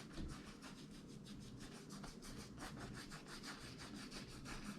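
Quick, steady crisscross strokes of a paintbrush laying acrylic paint onto a surface for a sunset landscape, an even brushy scrubbing rhythm that is faint and close with no talking.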